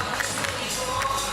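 Crowd noise swelling through a tense deciding set at the Teqball Tour finals in Pula, a steady loud wash of cheering and shouting with no clear breaks.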